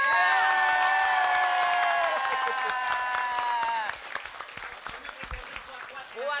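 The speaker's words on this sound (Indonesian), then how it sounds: "Tepuk tangan dulu dong." Audience at a live Indonesian comedy show applauds and cheers loudly at first, with bright tonal music sounding over the clapping, then the applause thins out and continues in scattered bursts.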